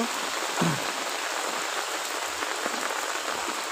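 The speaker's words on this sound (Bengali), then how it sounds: "প্রচণ্ড বৃষ্টি হয়েছে, প্রচণ্ড।" Heavy rain pours onto a street flooded with standing water, a steady broadband wash of drops and splashing that stays loud and even throughout, with no voices.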